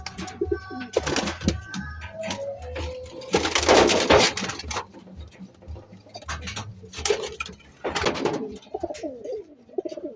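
Pigeons released outdoors in bursts, with flapping wings and soft cooing, a few loud flurries of wing beats mixed with quieter calls and brief voices nearby.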